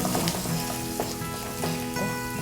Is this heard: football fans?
no